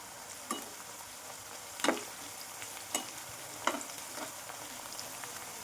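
Onions and curry leaves fry in a pan, giving a quiet, steady sizzle with a few sharper pops and spoon clinks spaced throughout.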